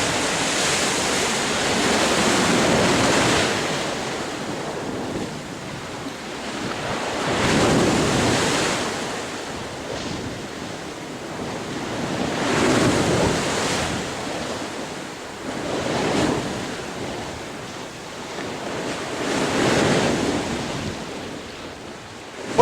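Stormy sea surges against the shore at Gynn Wall on the Fylde coast, big waves rolling in about every five seconds under a constant roar of wind buffeting the microphone.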